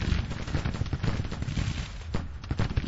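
Artillery guns firing in Grand Tactician, a Civil War–era strategy game set in the spring 1861 campaign: dense, continuous volleys of booming cannon shots with rolling low rumble and overlapping reports, loud and sustained throughout.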